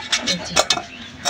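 A spoon cuts and scrapes through washed pumpkin flesh during pumpkin rasmalai preparation, giving a few close, short scraping clicks and clinks spread across a quiet kitchen background.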